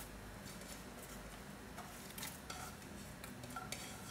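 Ginger, garlic and onion are stirred in a pan for chicken adobo, giving soft scraping and light utensil taps over a faint, steady sizzle.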